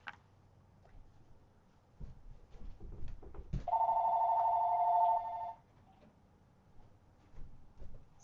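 A telephone bell rings in one sustained, bright burst indoors during a live broadcast. Brief knocks and handling noises come just before it, and the room falls quiet afterward.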